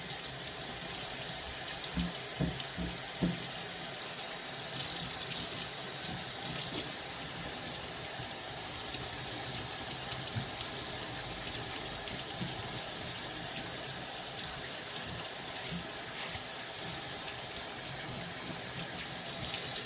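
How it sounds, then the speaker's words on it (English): Water runs steadily from a tap to rinse slime off a freshly caught halibut, a continuous close gushing stream with shifting splashes as the fish is handled. "Get some water here. Just rinse all the slime off."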